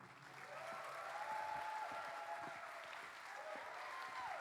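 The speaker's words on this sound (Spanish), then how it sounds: "les pediría un fuerte, fuerte, fuerte aplauso" Faint audience applause in a hall welcoming a speaker to a master class at a film festival, steady distant clapping throughout.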